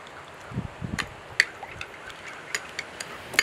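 Spoon mixing chogochujang, a tangy red chili sauce, in a bowl with light irregular clicks and scrapes against the side, fairly close and quiet, no talk.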